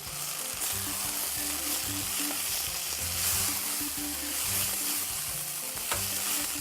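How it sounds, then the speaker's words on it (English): A spice blend of black pepper, paprika, turmeric, cloves, cardamom and cinnamon stirred into a hot frying pan gives a loud, continuous close-up sizzle with a steady crackle and a low stirring rumble throughout. "And stir it in."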